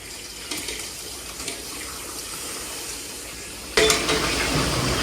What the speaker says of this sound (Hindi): अभी मैं इसके अंदर ऐड करने लगा हूँ चिकन।